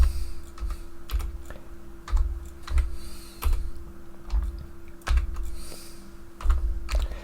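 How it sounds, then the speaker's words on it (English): Command typed on a computer keyboard, a run of crisp clicking keystrokes in irregular bursts with a few louder key thumps, close and alone without speech. "So we need to delay this command coming into effect. So we type in"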